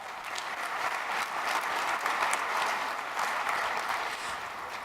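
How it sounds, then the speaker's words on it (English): Convention keynote audience breaks into sustained applause, a broad even roar of many hands clapping from across a large hall, steady throughout. "Let's give them a round of applause."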